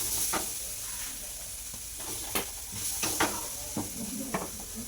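Mustard seeds frying in hot oil for a tomato chutney, with several sharp pops and crackles scattered over a steady low sizzle, close and fairly quiet.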